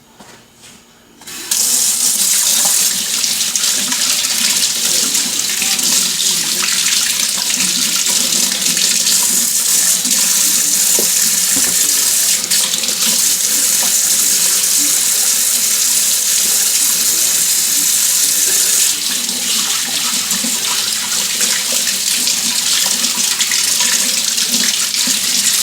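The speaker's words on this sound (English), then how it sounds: "let me clean my hands." Tap water gushing steadily into a sink as greasy hands are washed with dish detergent, a loud continuous broadband rush that starts abruptly after a brief quiet moment and runs unbroken to the end.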